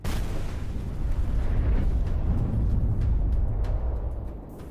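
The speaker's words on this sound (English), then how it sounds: "A second missile is fired, scoring a direct hit and triggering a massive explosion." A missile strikes a tank and sets off a massive explosion: a broad, sustained low rumbling blast that holds loud for several seconds before easing off, with no voices.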